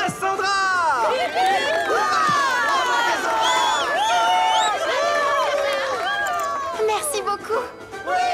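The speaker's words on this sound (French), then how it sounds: "veuillez applaudir chaleureusement notre nouvelle championne, Cassandra" A crowd cheers a new champion with a lively, continuous swell of excited high shouts and whoops that rise and fall over several seconds, fading slightly at the end.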